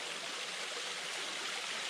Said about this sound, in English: there's like a little step over here, and there's a little waterfall